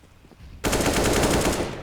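Rapid automatic gunfire in a Counter-Strike match on the Cobblestone map, a sudden loud burst that starts abruptly and continues as a dense rattle of shots.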